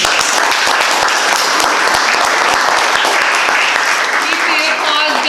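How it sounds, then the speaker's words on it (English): An audience claps steadily after a reading at a live show, a dense, continuous round of applause that holds strong for the whole stretch with no talk over it. "Keep the applause going for Maurya Kerr."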